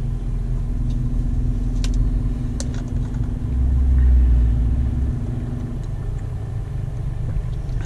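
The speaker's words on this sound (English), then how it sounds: "you will probably hear it now when I accelerate" Scania G440 truck engine heard from the cab as it accelerates, a loud steady rumble with a droning hum that swells in the middle and then eases off, no talking.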